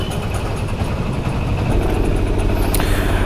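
A motorcycle engine running steadily while riding, a loud continuous drone close by with some wind rush and no talking.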